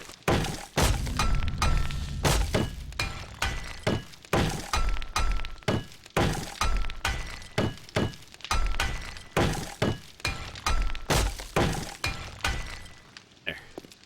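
A wrench repeatedly strikes blocks in the video game 7 Days to Die, producing a rhythmic series of sharp smashing, breaking impacts with brief gaps between them.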